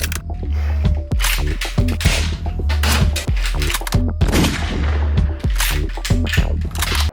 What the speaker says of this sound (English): Reloading with this rifle is as follows.